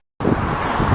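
Wind roars over the microphone on a windy Montreal afternoon near rail lines, a loud, steady broadband rush that starts abruptly after a short silence and holds to the end.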